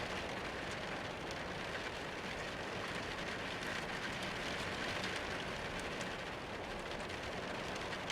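Steady raindrops patter continuously on surfaces, a soft, even hiss at low volume with no pauses or voices.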